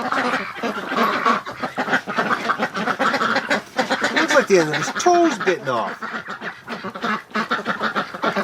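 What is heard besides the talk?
Muscovy duck quacking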